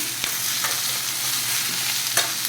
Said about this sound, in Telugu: ఇంకా ఎర్రగడ్డలు వేగిపోయాయి, బీట్రూట్ వేసుకున్నాము